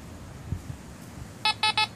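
A metal detector chirps over a brass-knobbed furniture tack buried in a clod of dirt in Virginia, giving three short, bright electronic beeps in quick succession at the end after a faint handling thump.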